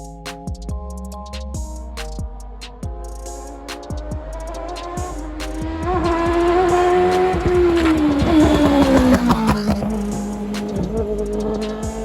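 A race car laps a drying track, its engine droning and climbing in pitch as it accelerates, rising to a loud whine before easing, with rapid clicking and rattles throughout and no voices.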